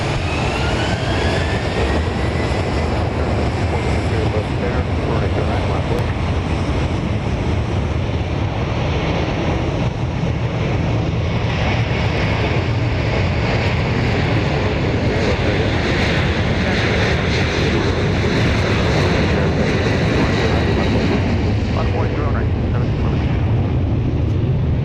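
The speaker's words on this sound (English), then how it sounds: "That noise you hear in the background is Flight 421, which is making its way to take off." A Southwest Boeing 737-800 jet taxis toward takeoff at Dallas Love Field, its engines giving a steady, broad roar with a whining tone, heard at a distance under wind buffeting on the microphone.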